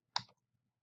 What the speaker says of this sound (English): I'm sorry, that was a left click